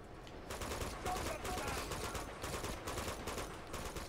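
Rapid, repeated gunfire in the video game Uncharted 2, dense bursts of shots continuing throughout, with speech from players mixed under the fire.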